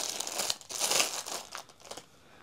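A plastic packaging bag crinkles and rustles as it is pulled off a small 250-gram hammer, a few close bursts of crumpling that taper off.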